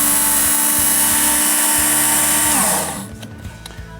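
A Work Sharp belt sharpener runs on a Schrade recurve knife blade, a steady loud whirring grind with a high-pitched edge that holds, then winds down and fades near the end.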